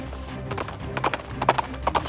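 Horse hooves clop in a quick uneven rhythm, fairly loud and close, with a faint whinny-like tone mixed in.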